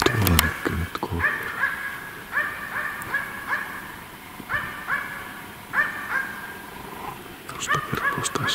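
A hunting dog, a Finnish Spitz, barks repeatedly in short bursts with uneven pauses, heard outdoors in the forest at moderate distance, with yelping tones between barks.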